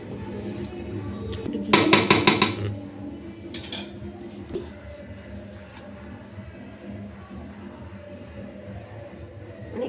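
Homemade chicken biryani with a little ghee being stirred in a pot: a short burst of metallic scraping and clinking near the start, then quieter kitchen ambience with occasional faint knocks.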